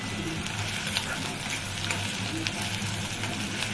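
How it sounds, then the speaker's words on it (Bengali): Onions fry in a pan for canteen-style ghugni, a dense, even, close sizzle with faint scattered crackles that runs steadily throughout with no talking. "পেঁয়াজটাকে একটু লাল করে ভেজে নেব।"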